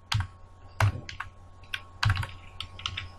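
Typing on a computer keyboard, with a few heavier clustered keystroke bursts and lighter scattered key taps at an irregular rhythm, close and fairly clear with no talking.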